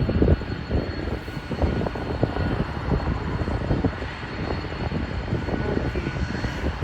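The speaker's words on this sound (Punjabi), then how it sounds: "ਇੱਧਰ ਆਪਣੇ ਸਾਹਮਣੇ ਆ ਰਿਹਾ 에ਅਰ ਇੰਡੀਆ ਦਾ ਜਹਾਜ਼ ਜਿਹੜਾ ਕਿ ਇੱਥੇ ਸਾਹਮਣੇ ਹੀ ਆਪਣੇ ਕੋਲ ਦੀ ਜਾਊਗਾ ਲੈਂਡ ਹੋਊਗਾ" An Air India airliner approaching to land at Toronto gives a steady, broad jet roar with a low rumbling undertone, holding fairly even in loudness for several seconds with no voices.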